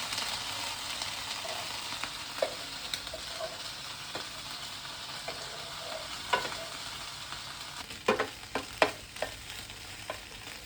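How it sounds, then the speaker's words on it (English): Corn kernels and chilies fry in a pan with a steady broadband sizzle, while a spoon stirs and scrapes in scattered knocks that grow busier and louder toward the end; no one speaks. "now we are gonna put some corns inside the chilies. And stir it."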